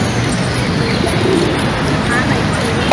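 Pigeons cooing and a few chirps in the main plaza of Mérida, Yucatán, a steady outdoor murmur of birds and crowd ambience under faint background voices.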